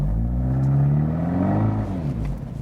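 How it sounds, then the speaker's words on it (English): A 170 hp 2017 Abarth 124 Spider pulls away hard on slippery ground with ESC off, its engine loud and close, the drone climbing steadily in pitch as the revs rise through wheel spin. "There's more wheel spin, and that we can also use for fun driving, of course."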